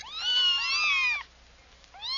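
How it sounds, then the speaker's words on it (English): Kittens meow in high, wavering, overlapping cries. A cluster of close, clear meows is followed by a short pause and then another meow. "Kittens."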